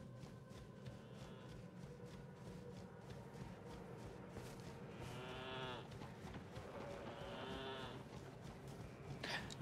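Sheep bleating in the Elden Ring video game, several drawn-out wavering calls at mid distance over a steady low ambient game bed, with no talk.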